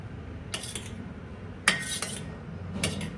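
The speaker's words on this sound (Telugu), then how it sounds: "ఆయిల్ యాడ్ చేసిన తర్వాత మొత్తం ఇలా మిక్స్ చేసేయండి." A spoon mixing oil into a homemade flaxseed gel hair remedy gives three short, soft clinking scrapes against a bowl over a quiet background hum.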